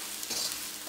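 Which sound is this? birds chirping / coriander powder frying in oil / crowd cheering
coriander powder frying in oil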